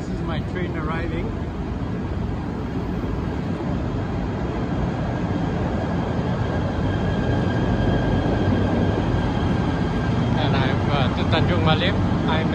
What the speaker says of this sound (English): Okay, this is my train arriving.